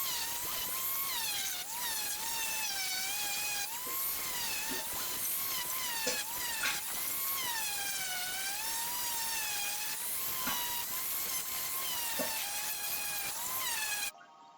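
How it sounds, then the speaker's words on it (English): An electric sander works the wooden legs of an old bird table, giving a steady close-up whine whose pitch wavers and dips as pressure shifts, with no voices. "I'm just giving the legs a sanding down as well"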